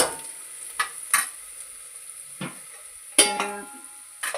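Onion frying in a pan for cauliflower pulao, with scattered scrapes and clinks of stirring over a faint steady sizzle, close and fairly loud.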